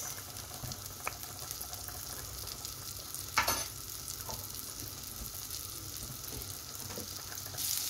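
Butter sizzles and fries softly in a pan before mushrooms go in, a steady low crackle with a few brief clatters of utensils and no talking.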